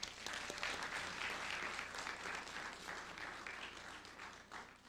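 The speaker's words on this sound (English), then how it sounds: "Let's give him another round of applause." A steady round of audience clapping fills a hall at a Medgar Evers College education conference, even and continuous from start to finish before tapering slightly at the end.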